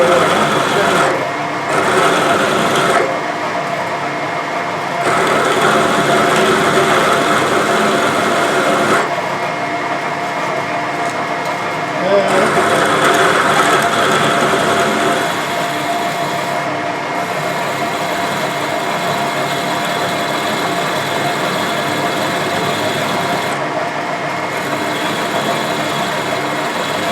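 A power drill with a dull bit whirs continuously, close and loud, its motor pitch shifting slightly as it starts and stops a few times.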